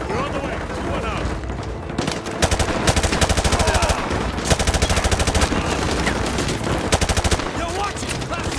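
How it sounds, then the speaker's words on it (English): Gunfire in a PC military shooter game, with loud bursts of rapid automatic fire in several sustained volleys, close and dominant, over a dense battle backdrop. "We're taking heavy fire from the school."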